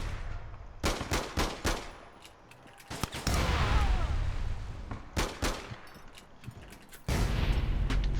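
Gunfire and grenade blasts in the online shooter APB Reloaded: sharp rapid shots in short bursts, followed by a couple of louder booming explosions with sustained rumbling noise, fairly close and without talk.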